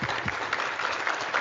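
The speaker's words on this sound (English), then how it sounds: "Let's give them a round of applause." An audience applauds the organisers at a symposium panel event, a dense, steady round of clapping heard alone and fairly close for a brief stretch.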